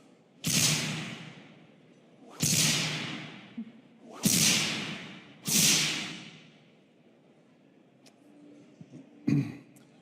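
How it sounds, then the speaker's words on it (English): Electrical whip-hit sound effects used as bass for cinematic impacts: four sharp, heavy cracks spaced about two seconds apart, each swelling and decaying with a rumbling tail, followed by a few smaller clicks and a final brief hit. "I made some electrical whip hits, and I used these as the bass for the Psyblade impacts"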